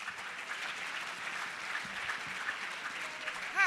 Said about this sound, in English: Let's clap for our MC.